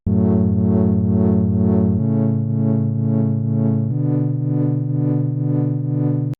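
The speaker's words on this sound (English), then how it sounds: "putting LFO to cutoff, so that the LFO opens up a bit" Progressive house synth bass with an LFO sweeping the filter cutoff, a loud sustained tone pulsing in a steady rhythmic wobble, shifting to a new pitch every two seconds, with no voices.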